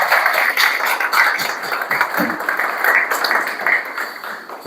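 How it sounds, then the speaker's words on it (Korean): Applause from the audience at a Korean church prayer gathering, a steady dense patter of clapping in a hall that carries on for several seconds with no talk over it. "다시 한번 뜨거운 경기 박수 부탁드립니다"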